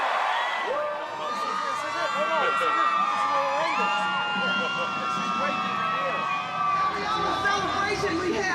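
A large crowd at an election campaign rally cheers and shouts continuously, loud and dense, with whistles and raised voices rising over the roar throughout.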